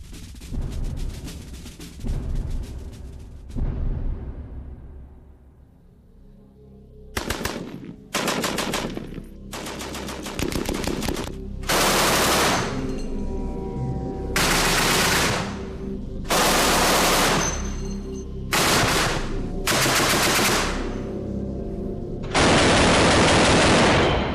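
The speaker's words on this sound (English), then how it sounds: "this marksman is going to use it to strafe a piece of Messerschmitt 109" A Messerschmitt 109's 20mm cannon fires at a piece of aluminum with wing-skin thickness, loud bursts of rapid shots separated by short pauses, the later bursts longer and heavier.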